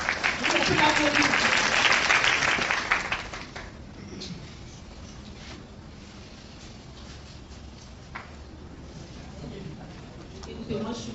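An audience applauding at a masterclass in Abobo, a dense burst of clapping for about three seconds that then stops, followed by quieter room sound with a voice speaking.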